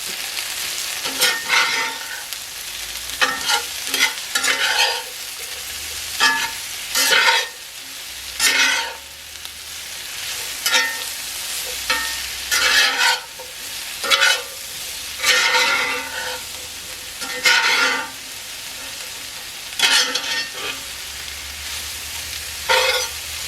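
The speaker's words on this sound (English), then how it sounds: "Just stir it occasionally because I don't want anything to burn on the bottom." Breakfast scramble sizzles steadily in a frying pan while a utensil stirs it in repeated scraping bursts, close and fairly loud, with no talking.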